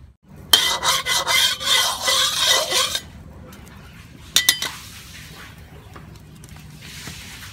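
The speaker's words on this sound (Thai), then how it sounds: "ผัดบวบใส่หมูครับมีแค่นี้นะครับบวบมีหมูกระเทียมครับครับมาชมวิธีการผัดกันครับ" Zucchini stir-fried with pork and garlic in a pan: loud sizzling and rasping scrapes for a few seconds, then sharp metallic clinks of a utensil on the pan and a quieter sizzle.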